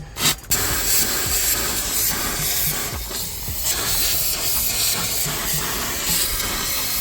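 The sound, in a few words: steam cleaner spraying hot steam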